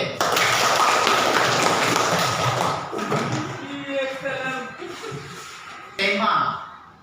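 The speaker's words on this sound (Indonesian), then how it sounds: "Tepuk tangan buat 5B." A class of primary school students applauds together in a classroom, a dense burst of clapping that fades over several seconds, with a teacher's voice speaking over the later part and a fresh burst near the end.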